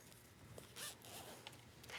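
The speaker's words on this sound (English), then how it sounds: "one thing we need to remember is to open your zipper" A clothing zipper on a lightweight fleece jacket being sewn is opened in a few short, faint rasping pulls, close by, with no talking.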